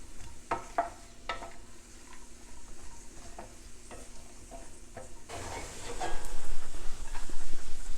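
Apricots, onions and nuts are stirred in a hot pan for a Middle Eastern brown rice dish: scraping stir clicks over a soft sizzle that swells louder and denser in the last few seconds, with no talking.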